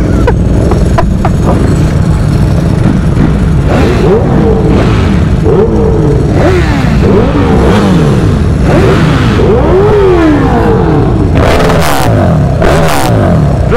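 Ducati Panigale V4 S sport motorcycles and other fast bikes rev and accelerate very loudly at close range, with rising and falling engine whines, sharp blips and heavy roar, and voices partly audible.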